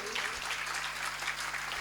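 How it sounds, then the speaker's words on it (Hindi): A short burst of steady clapping from a gathered crowd at a Jain temple abhishek ceremony, dense and even, lasting under two seconds. "तालियों से सम्मान करें"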